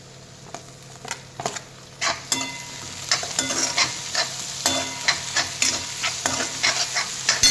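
Tomatoes cooked with salt are stirred in a hot pan with a steady close sizzle, broken by repeated scraping strokes of a spoon at an uneven rhythm; no talking.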